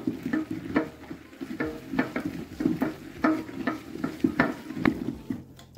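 A thick sarson ka saag, with a cup of flour added, is mashed vigorously in a pot over a lit stove: rhythmic thudding, squelching strokes of a wooden masher, close and steady with faint clinks against the pot.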